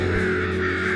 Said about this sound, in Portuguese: Quando encontram os corpos de corvos mortos, às vezes eles começam a piar alto ou reunir outros pássaros